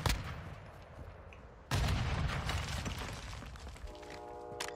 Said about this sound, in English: Grenade couldn't have taken any longer to explode.